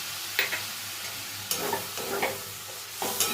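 A spoon stirs chichinga (snake gourd) with sesame-poppy seed paste and water in a hot pan, giving a soft frying sizzle broken by a few scraping strokes, close and steady with no talk.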